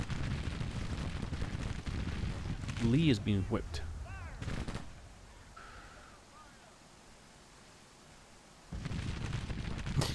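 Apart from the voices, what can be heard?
artillery cannon fire in Grand Tactician video game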